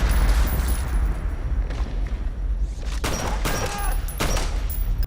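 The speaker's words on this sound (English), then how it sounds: "And Mike kills everyone in the room with a combination of explosives and gunfire" Explosives and gunfire in a violent scene from the movie The Belko Experiment, with a dense, continuous roar of bursts, booms and thuds mixed with sharp metallic impacts.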